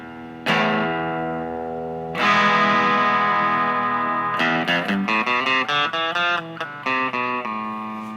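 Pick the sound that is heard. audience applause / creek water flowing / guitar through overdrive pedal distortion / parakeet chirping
guitar through overdrive pedal distortion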